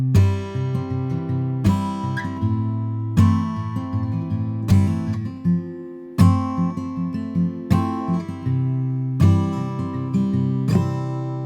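Sustained guitar chords ring out one after another, each struck cleanly and left to sustain, in a slow steady progression with no talking.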